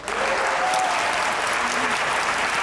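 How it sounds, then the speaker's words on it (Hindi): Loud, sustained applause from a TV studio audience fills the whole stretch, dense clapping with faint voices mixed in. "तालियां बजाएं इस बार।"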